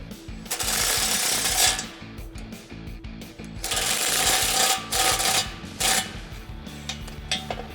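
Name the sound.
wrench tightening bolt on Jeep step bar bracket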